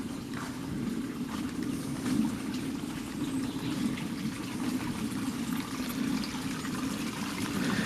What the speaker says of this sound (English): I'm just walking back towards the sound of the water, where the water is flowing off from the pond